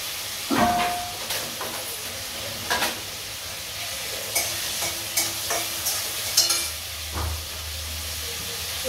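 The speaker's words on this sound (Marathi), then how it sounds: "कांदा परतून घेते मी" Onions sizzle in a pan while a spoon scrapes and stirs in short, repeated strokes, the frying hiss steady underneath.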